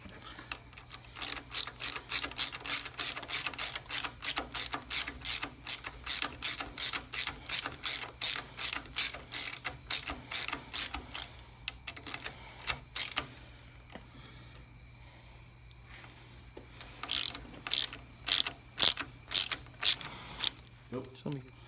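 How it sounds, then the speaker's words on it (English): Ratchet wrench tightening a bolt on a new ASV shorty brake lever of a Kawasaki Ninja 250R race bike, close and loud: a long run of quick, steady clicks, a pause, then a second shorter burst of clicking. "Get our ratchet."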